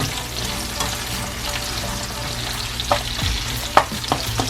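Steady sizzling of sweet pepper, onion, scallion and thyme frying in a pot, with a few sharp clanks of stirring toward the end.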